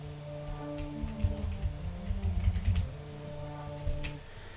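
Sustained synth pad chords shift slowly between harmonies, with a soft percussive pattern ticking underneath; moderate level, no voices.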